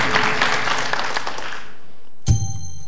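Studio audience applause on a quiz show, a burst of clapping that fades out after about two seconds, followed by a short sharp sound and a low tone.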